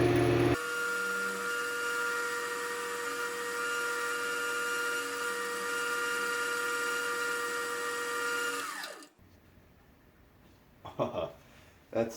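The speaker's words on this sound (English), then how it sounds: "Speed up the lathe, really buff it out." A wood lathe spins at speed while a piece is buffed, giving a steady, loud tonal whine with a low hum. The whine runs for about nine seconds and then stops abruptly, leaving faint handling noises.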